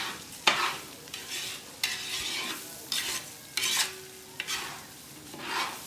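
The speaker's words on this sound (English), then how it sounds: "With onions and oil, they fry the rice before they add the water." Rice frying in oil with onions is stirred in a pot for Nicaraguan-style rice, with soft sizzling under repeated scraping strokes, about six spaced stirs, close and moderately quiet.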